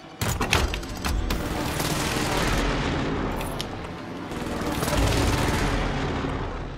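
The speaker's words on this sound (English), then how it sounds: "Allied precision airstrike incoming." Heavy explosions from a precision airstrike in a modded Call of Duty game, a dense, continuous barrage of booms and rapid gunfire-like blasts that stays loud throughout, swelling again toward the end.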